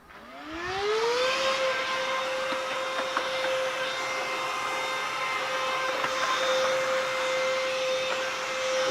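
Vacuum cleaner motor spinning up with a rising whine, then holding a loud steady roar while sucking dirt and debris out of a Honda motorcycle piston area, with occasional small rattles of debris.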